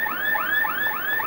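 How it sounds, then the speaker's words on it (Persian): A car alarm on a Mercedes wails in rapid repeating rising sweeps, loud and continuous, with no voices. "بچه ها جیغ ماشین رو در آوردن دزدگیر ماشینه"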